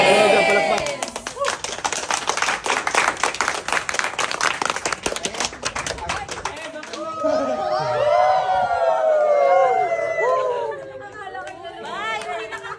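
A group at an outdoor outing claps loudly and rapidly for several seconds, then the clapping fades into lively crowd chatter and voices.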